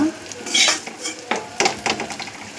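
Fried okra is stirred into okra palya with a metal spoon, giving scraping clinks against the pan over a soft sizzle, several distinct strokes in a few seconds.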